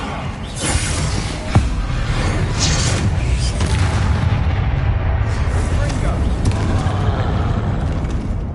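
Bombarda explosion spell in Hogwarts Legacy combat, a steady roar of heavy booms and blasts with one sharper crack early on, loud and unbroken, with speech mixed into the din.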